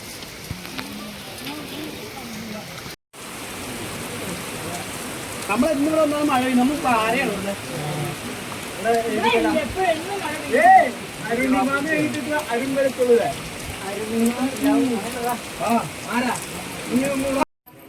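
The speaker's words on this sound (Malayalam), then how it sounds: "കിടക്കാച്ചി മഴ, കൂരിമലയിലെ മഴ" Steady heavy rain hisses throughout on the Koorumala hilltop near Elanji, Kerala, with voices talking over it in the middle and a short break near the start.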